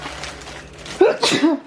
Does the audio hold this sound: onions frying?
no